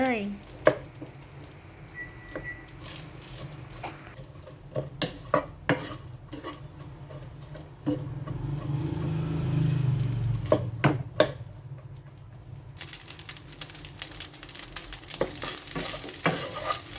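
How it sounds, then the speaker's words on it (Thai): Leftover refrigerated rice being stir-fried in garlic butter oil in a pan: scraping and clinking of a spatula against metal in irregular bursts over a low sizzle, with occasional quiet speech. "ผัดให้ทั่วกับน้ำมันเนยให้ดีนะคะ"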